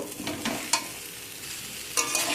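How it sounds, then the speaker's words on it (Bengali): Vegetables with ginger and cumin powder are stirred in a hot pan for a spinach dish, making a continuous sizzle with occasional spatula scrapes, close and without talking. "সব কিছুকে আবার ভালো করে নাড়াচাড়া করে নেব"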